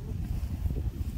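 Outdoor wind on a blustery day during a dog walk buffets the microphone as a low, rumbling whoosh that pulses for a moment, with no talking.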